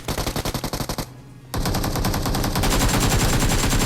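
Automatic gunfire in a BGMI/PUBG battle game: a rapid rattling burst, a half-second pause, then a sustained, dense stream of shots continuing loud and close to the end.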